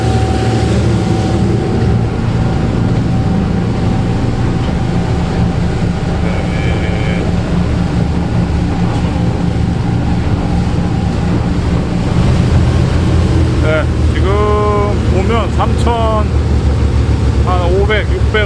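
A Volvo Penta AD31 diesel boat engine running under way at a marina in Yeosu, a steady loud drone mixed with wind buffeting and water rush, a voice talking over it near the end.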